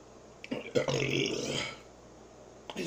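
During a fried chicken meal, a person lets out one long, throaty belch close to the microphone, with a faint breath or grunt at the end.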